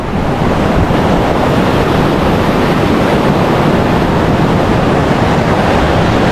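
Hagdan-Hagdan Falls in Mauban, Quezon, a loud, steady, broadband rush of falling water that continues without a break.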